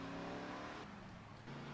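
A car in GTA Vice City: a faint, steady engine drone with a slight shift in pitch midway, continuous and distant.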